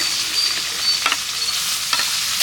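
Green chilies, onions and tomatoes fry in hot oil with a loud, steady close-up sizzle, broken by a few sharp scraping stirs near the middle and end.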